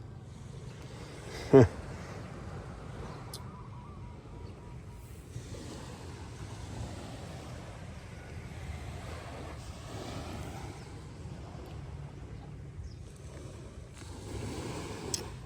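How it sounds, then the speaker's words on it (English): Ocean waves pound the shore near a house in Antique, Philippines, during a typhoon, a rough continuous surging roar mixed with gusting wind buffeting the microphone and one sharp thump early on. "the water waves pounding"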